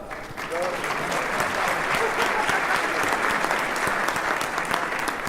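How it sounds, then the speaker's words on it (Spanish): An audience at a construction industry conference applauds steadily, a dense wash of clapping that starts abruptly and holds at a consistent level throughout. "Les saludamos con nuestro aplauso"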